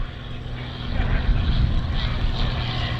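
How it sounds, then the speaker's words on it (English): 1943 PT-26 vintage trainer airplane coming in at a World War II airshow, a rumbling propeller-engine drone that swells and holds steady over about three seconds, with wind and crowd noise around it. "Now coming in, here's Tim Trimble with his 1943 PT-26"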